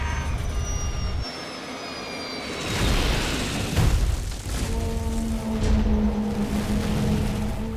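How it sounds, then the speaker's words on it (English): Dramatized crash of a Crossair airliner on approach near Zurich, plunging into a hillside: a loud, dense rumbling roar with a heavy impact boom midway, followed by a lingering low drone and tonal hum, no voices. "Moments later, the aircraft plunges into the hillside."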